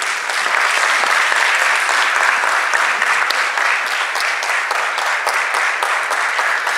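Audience at a Mexican state legislature event, a book presentation, gives sustained, dense applause throughout, steady and loud with no talk over it.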